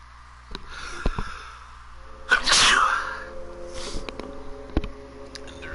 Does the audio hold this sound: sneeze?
yes